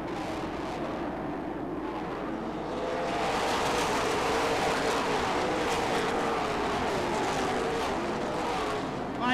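A field of race cars roaring off at the green flag of the 40th Spring Classic at Rockford Speedway, a dense broadband engine roar that swells after a few seconds and stays loud and sustained.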